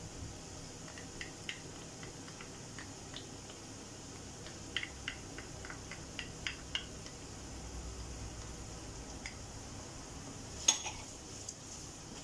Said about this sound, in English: give it a mix so that the paprika doesn't burn